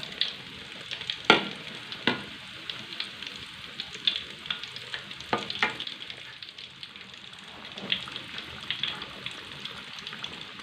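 Stuffed tofu sizzling in oil over low heat, a steady crackling fry with scattered louder pops and spatters throughout, close by and without talk.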